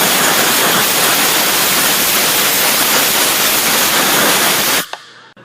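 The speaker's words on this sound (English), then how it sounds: "we're going to use compressed air and we're going to blow it out really good" A loud, steady hiss of compressed air blows out a Ford capless fuel filler, a broad unbroken rush that holds for nearly five seconds and then cuts off sharply, leaving near silence.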